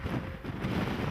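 Strong wind gusting across an open park buffets the microphone with a steady low roar, loud and unbroken throughout the short stretch, with no talk over it.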